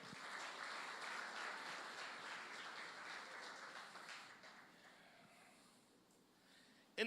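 A church congregation claps together during a Sunday service, the faint applause holding steady before gradually thinning out and fading away.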